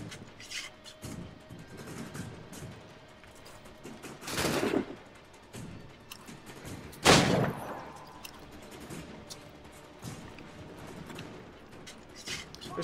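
Gunfire in Assassin's Creed 3, with two loud broadband shots standing out around the middle, plus scattered fainter pops and clatter over a busy in-game background.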